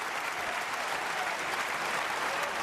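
Snooker crowd at the Crucible giving a standing ovation for the defending champion at the World Championship, dense continuous applause filling the hall evenly throughout.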